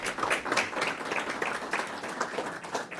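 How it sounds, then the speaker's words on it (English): A community meeting audience applauds its planning board members with steady, dense clapping from many hands, moderately loud throughout the short burst. "I wanted to give a round of applause to the planning board members here"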